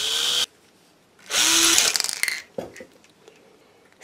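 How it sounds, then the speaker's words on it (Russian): A power drill grinds through a rapana sea shell in two loud bursts with a short pause between them, followed by scraping and clicking handling noises close up. "Вот здесь, в рапане, просверлила, но сверлится очень долго."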